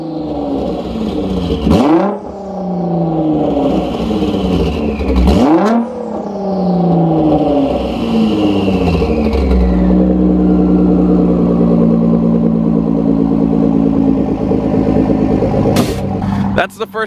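A stanced car's engine revs hard several times, each rise ending in a sharp drop, then settles into a loud, brassy, trumpet-like exhaust drone close by.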